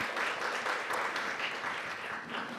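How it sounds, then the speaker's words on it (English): An audience claps steadily to welcome two organization leaders onto the stage at a Two-Spirit and Indigiqueer showcase, a dense, even wash of applause throughout with no talk over it. "Can we give them a round of applause, please?"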